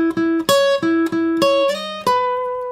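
Slow guitar lick with string skipping, separate plucked notes in a halting rhythm, each note attacked crisply and left ringing briefly, close and clear with no talking.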